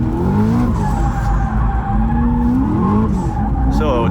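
A car held in a drift through a donut, tires skidding in a loud continuous squeal over a roaring engine, close and sustained, with someone talking over it.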